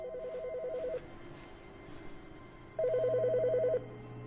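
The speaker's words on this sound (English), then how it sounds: "I hear a phone." An old-style telephone in The Stanley Parable rings with a fast trilling electronic bell, one ring of about a second, a pause, then a second ring of equal length over quiet room ambience.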